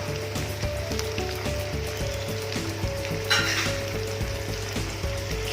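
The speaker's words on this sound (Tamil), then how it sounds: "இப்போது பச்சை வாசனை போகிற அளவுக்கு நல்லா இதை வதக்கிக்கலாம்" Chopped tomato and crushed ginger sauté in a hot pan for a tomato kuzhambu, with a continuous close sizzle, crackling spatter and occasional scraping stirs.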